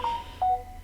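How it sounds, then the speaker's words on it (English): A mobile phone gives two short, clear electronic beep tones in quick succession, loud and close in an otherwise quiet room. "I'm sorry about my phone going cray here."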